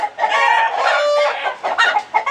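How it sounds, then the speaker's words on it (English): Loud, close chickens clucking and squawking in an agitated burst, with a rooster-like crow mixed in, no talking. "Wow, chickens are noisy today."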